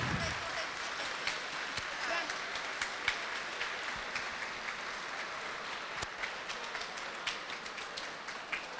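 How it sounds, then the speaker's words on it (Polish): An audience at a high school polonaise and waltz dance event applauds in a faint, distant, continuous wash of clapping with a few sharper individual claps poking through. "Wielkie brawa."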